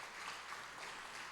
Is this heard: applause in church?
yes